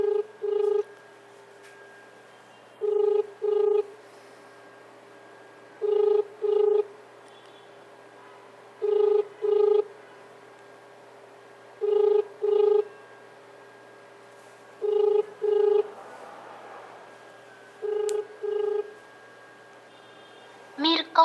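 A telephone call rings unanswered, giving evenly spaced paired ringback tones every few seconds over a quiet line.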